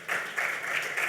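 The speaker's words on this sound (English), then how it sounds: "Another hand of applause, please." Audience applause following a marketing presentation on a cybernetic future, a short burst of steady clapping from a crowd, moderately loud and without talk.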